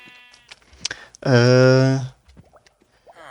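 A single Minecraft sheep bleats once, loud and close, a wavering baa lasting under a second between quieter game sounds and faint ambience.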